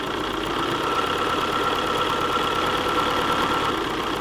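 A sewing machine stitching down fabric and batting gives a steady, close, continuous mechanical whir with a fast needle chatter at an even pace and no break, with no one talking.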